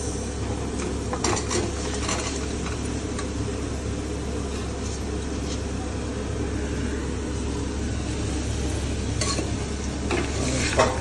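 Pieces of goat head frying in a spicy curry pan give a steady close sizzle, with scraping stirring strokes and utensil clinks bursting out every few seconds.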